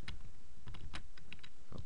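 Keys on a computer keyboard are tapped up close while editing CSS, giving a short run of irregular, crisp clicks with brief gaps between presses.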